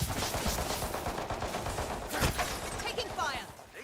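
Gunfire in the video game HighGuard, rapid bursts of shots and impacts crackling under a busy mix with voices, loud and dense throughout.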